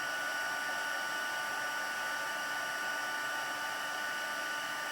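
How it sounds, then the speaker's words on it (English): A heat embossing tool blows hot air in a steady, loud, even whoosh that holds throughout with no pauses, crafting embossed silhouettes on black paper. "We'll use our heat tool."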